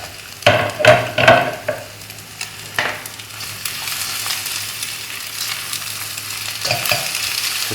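Mustard greens, long beans and carrots stir-frying for Malaysian Maggi goreng instant noodles: loud scraping clanks of a spatula at first, then a continuous close, even sizzle with occasional light knocks.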